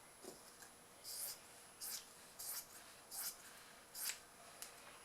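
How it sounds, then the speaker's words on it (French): Scissors snip through excess fabric in a steady run of six or seven quiet, close cuts, each a short crisp slice with brief gaps between. "je vais découper donc le surplus de tissu ici"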